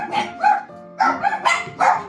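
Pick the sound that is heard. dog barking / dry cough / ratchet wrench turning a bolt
dog barking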